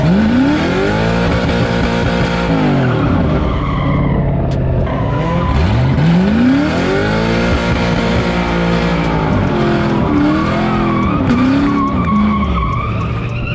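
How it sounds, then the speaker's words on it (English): Loud, continuous tire squeal as a Mustang's wheels spin and skid in a burnout, engine roaring and pitch sweeping up and down throughout. "you're still just full on roasting the wheels"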